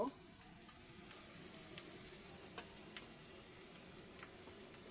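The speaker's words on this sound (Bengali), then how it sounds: "গাজরটাকে আমি ভেজে নেব।" Chopped carrots fry in a pan, giving a steady, fairly quiet hiss and sizzle with occasional faint ticks and pops.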